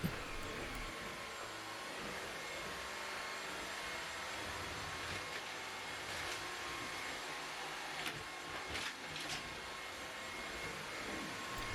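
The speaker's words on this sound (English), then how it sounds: "Poor Miss Lulu is not a fan of the vacuum." A vacuum cleaner runs continuously with a steady, broad whooshing roar and high whine, unchanging throughout with no talking.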